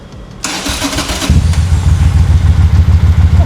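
A superbike engine cranks briefly and catches, then settles into a loud, steady, throbbing idle heard up close, with no talking.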